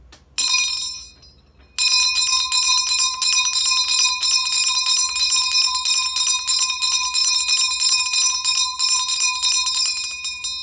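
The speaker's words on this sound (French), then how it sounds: "par cette cloche qui retentit en votre nom" Church bell ringing loudly and close, a single struck tone first, then after a short gap a sustained series of bright clanging strikes with long shimmering overtones that continue to the end.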